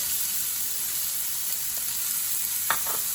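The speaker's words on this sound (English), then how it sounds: "As you can see, the mustard seeds are sputtering, and at this point I'm going to go ahead and add onions" Mustard seeds sputter in hot oil as onions go in, giving a continuous soft frying hiss with a couple of brief pops near the end and no voices.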